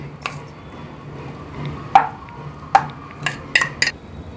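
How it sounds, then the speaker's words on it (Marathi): Stuffed brinjal ingredients are combined in a pot in a home kitchen, with a few sharp clinks and taps of utensil against cookware spaced over a faint background hum. "आता हे सगळं सामान आपण एकत्र करूया"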